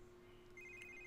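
A phone rings in The Sims 3, a faint electronic ring tone that rises partway through the short stretch over a quiet steady hum, with no voices.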